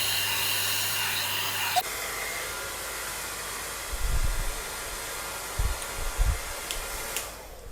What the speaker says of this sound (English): I'm going to get my big dryer. Blow dryer, hair dryer